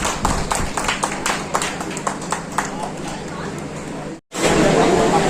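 An audience at a poetry award ceremony in Kanpur claps, with sharp distinct hand claps standing out over crowd chatter, then a brief cutoff before noisy murmuring resumes.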